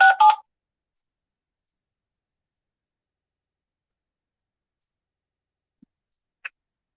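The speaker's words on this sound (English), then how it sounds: "Carl makes another fucking call to Becky." A telephone number dialed to a district attorney's office: a quick burst of keypad tones at the very start, then near silence with two faint ticks later.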